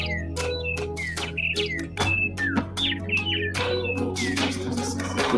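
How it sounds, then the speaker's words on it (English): Several birds sing in overlapping bursts of whistled notes and rising and falling chirps over a steady low hum, fairly close and continuous with no talking. "They sing it over us and around us in their songs"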